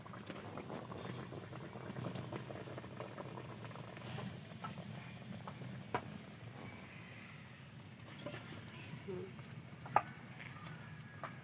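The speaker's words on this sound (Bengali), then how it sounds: "তো এবার আমি তেলটা গরম হয়ে গেছে," Luchi puris frying in a pan of hot oil, giving a steady, soft bubbling sizzle that stays faint and even throughout.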